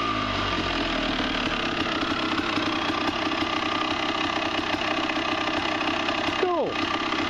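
A 1999 Honda CR250 two-stroke race bike, freshly rebuilt, idles steadily and close by, with a brief blip of revs near the end; someone talks over part of it.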